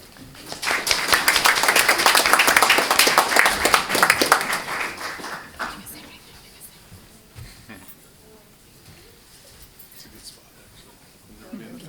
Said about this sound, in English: Please join me in giving DESK a very appreciative round of applause.